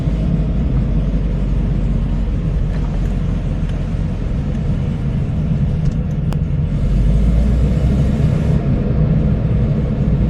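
A Peugeot 205 GTI 1.6 with a loud blowing exhaust holds a steady, heavy engine rumble close by for about ten seconds, rising briefly in intensity near the end, with no talking.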